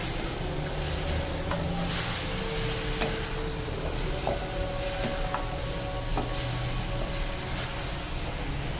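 Beef keema with whole spices is stirred in a hot pan, the spoon scraping and rubbing steadily against the metal over a continuous sizzle, close and fairly loud with no talking.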